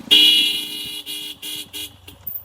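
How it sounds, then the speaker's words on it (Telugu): A vehicle horn honks repeatedly in short bursts during a ride into the hilly Srikakulam forest, the first blast long and loud, followed by several shorter toots with engine noise between them. "నా హార్న్ వాడండి, హార్న్ కొట్టండి"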